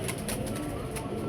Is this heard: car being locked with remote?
no